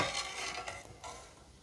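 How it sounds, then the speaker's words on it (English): Cheese curds for a soft Camembert-style cheese are stirred gently with a slotted spoon: quiet, wet swishing strokes with faint scraping, repeated a few times over a low background. "we want to stir gently because this is supposed to be a soft cheese"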